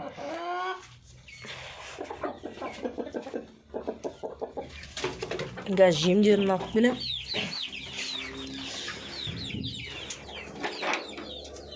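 Chickens cluck and a rooster calls in a home coop holding about ten hens, with wings flapping mid-clip; someone talks over the birds throughout.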